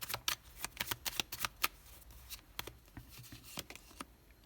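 Tarot cards are shuffled and laid down in a quick run of crisp riffles and slaps, close and fairly soft, thinning out toward the end with no talk.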